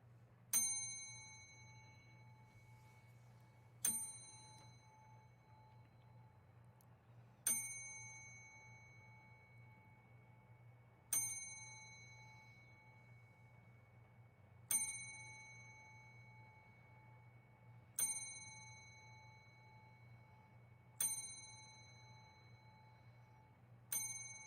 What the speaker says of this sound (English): So we'll do a 10-bell salute and then a shot for this gentleman.